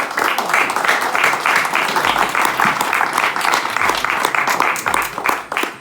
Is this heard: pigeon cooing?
no